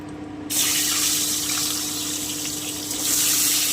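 Duck eggs drop into hot oil in a pan and set off a sudden loud hissing sizzle that holds steady and swells again near the end, with no voices.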